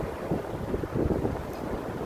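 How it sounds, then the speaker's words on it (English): Strong wind buffets a microphone outdoors, a steady rough roar with gusty swells across the whole short stretch and no talking. "I told you it was windy here, guys."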